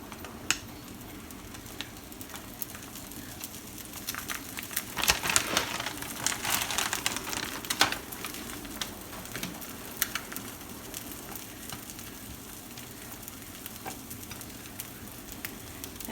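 Bagel breakfast sandwich frying in a pan with cheese added, a steady close sizzle with scattered crackles and pops and a brief louder burst of spattering midway, no one talking.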